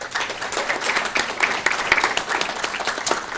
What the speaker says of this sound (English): So if you can give them a warm round of applause.